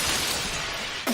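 Glass shattering in a Doctor Who episode, a loud bright burst of breaking glass that rings out across the whole clip, with a short sharp knock at the end.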